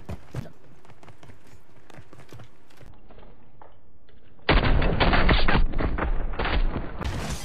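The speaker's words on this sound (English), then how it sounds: "Rapid fire shotgun shells have no effect on people in this game." Gunfire in the video game Call of Duty Modern Warfare III: a burst of rapid shots and footstep-like clatter early on, then a quieter stretch, followed by a loud sustained roar of dense firing and explosive game noise near the end.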